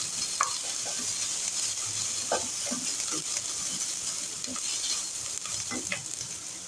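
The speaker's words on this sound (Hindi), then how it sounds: "बीच बीच में आप थोड़ा थोड़ा चम्मच चलाते रहें ताकि प्याज साइडों से लगे नहीं।" Chopped onions sizzle and fry in a pan with a steady hiss while a spoon stirs them, scraping and clicking against the pan at intervals, close up and without talk.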